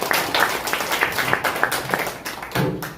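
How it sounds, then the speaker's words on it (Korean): Audience applause at a Korean association's founding celebration and fundraising day, steady crowd clapping with scattered sharp claps over about three seconds, a faint voice underneath toward the end. "다시 한번 뜨거운 박수를 응원해 주시기 바랍니다"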